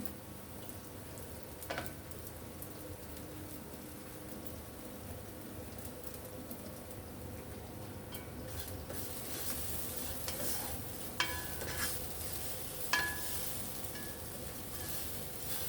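Vermicelli browning in a pan, heard as a steady soft sizzle and crackle with occasional stirring scrapes and a few sharper clinks, close and continuous throughout with no talk.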